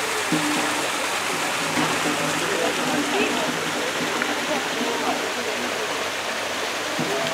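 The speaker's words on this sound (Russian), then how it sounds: "Водопадище." A large waterfall roars in a steady, dense wash of rushing water that stays up close throughout.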